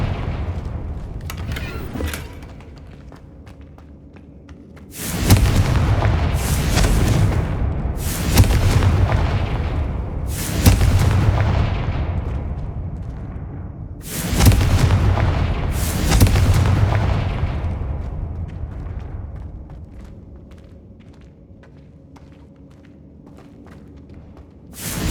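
Confringo fire spell blasts in Hogwarts Legacy, several heavy booming explosions arriving in pairs and singles, each loud impact rolling off into a long rumbling decay over quieter background ambience.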